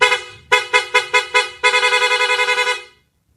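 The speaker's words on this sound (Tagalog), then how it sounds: "loud horn mga sir." Aftermarket loud horn on a Honda TMX 155 motorcycle, blasting with the engine off: five short punchy honks followed by a rapid run of about a dozen quick stuttering toots, loud and close.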